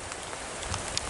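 Hail pelting down on a mountain road, a dense steady patter of small hard impacts with a few sharper clicks standing out near the end, close and fairly loud.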